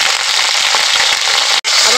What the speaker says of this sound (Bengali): আবার একটু ভালো করে নাড়াচাড়া করে ভেজে নেবো।